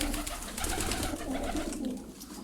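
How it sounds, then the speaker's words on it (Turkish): Tekirdağ roller and homing pigeons cooing in a loft, a soft, continuous low burbling from several birds close by, with a busy, rustling background throughout. "İşlerinde Tekirdağ makaracıları var, tipler var, baskalar var, çok güzel posta güvercinleri var."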